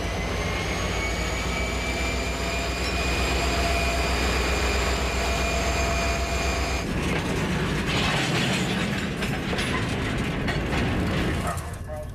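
A freight train starts moving after its air brakes release, with a steady loud rumble of engines and rolling cars, tonal squeals early on, then a rougher clattering of wheels and wagons growing busier toward the end.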